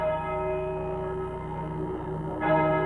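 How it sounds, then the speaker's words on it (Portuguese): The bells of Dunblane Cathedral ring with a sustained, resonant metallic tone and layered overtones, a new strike swelling near the end. "Os sinos da Catedral de Dunblane soaram exatamente às 9h30 da manhã"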